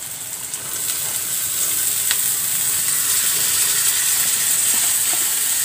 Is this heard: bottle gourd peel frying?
yes